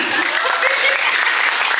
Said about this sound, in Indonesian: Tepuk tangan apa yang lucu tepuk tangan